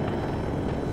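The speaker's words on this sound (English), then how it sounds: "What kind of chopper is this? Tech chopper." A helicopter's rotor and engine roar in the Battlefield 2042 video game, a dense, steady low-heavy drone that stays loud and unbroken throughout with no talk.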